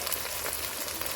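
Chopped tomato with cumin, chilli and turmeric powders frying in a pan, a faint, short, close crackling sizzle as it is stirred.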